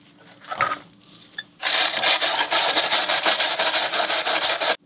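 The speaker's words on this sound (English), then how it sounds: "In scrubbing off this outer layer of rust, I think it'll expose more of the under layer of rust" Hard rhythmic scrubbing on rusty bare metal, a loud run of quick back-and-forth abrasive strokes after a couple of light taps, stopping abruptly near the end.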